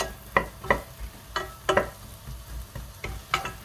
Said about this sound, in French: On remue avec une cuillère en bois.